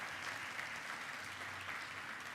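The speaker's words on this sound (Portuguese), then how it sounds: "Dá um aplauso ao Senhor pelas suas alianças propostas." A church congregation at a family worship service breaks into steady, dense applause that holds evenly for a couple of seconds, close and full with no voices over it.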